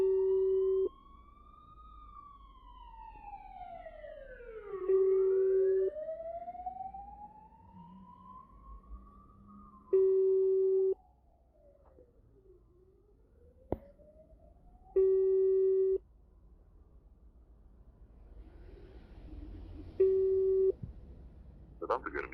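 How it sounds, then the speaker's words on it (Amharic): Repeated unanswered phone tone: steady beeps pulse about every five seconds, loud and clear, over a swooping siren-like ringback melody and faint background noise. "ይሄኛው ስልክ አልተነሳልኝ"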